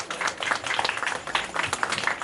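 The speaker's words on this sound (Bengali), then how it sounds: "সকলে মিলে জোর করে হাততালি দিয়ে অভিনন্দন জানাবেন" An audience at an Independence Day celebration claps together in a dense, continuous patter of many hands at moderate distance, with a murmur of voices mixed in.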